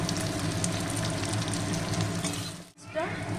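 Eight green chillies frying in oil in a pan, a steady dense sizzle that briefly drops out near the end before resuming, close and fairly loud.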